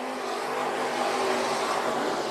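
A race car at Bakersfield Speedway, running a B-main event, drones steadily with a broad, loud engine roar and dense track noise throughout, no clear pass-by swell or talk heard.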